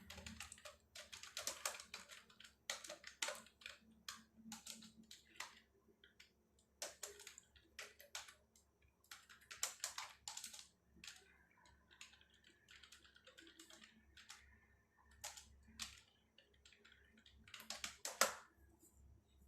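A heading being typed on a computer keyboard in an Excel spreadsheet, bursts of quick, close, fairly quiet key clicks with short pauses between them, and no talking.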